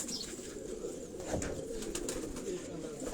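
Pigeons once kept by Ustad Ikhlaq Ahmad Khan cooing on a Karachi rooftop, soft low throaty coos close by over faint background noise.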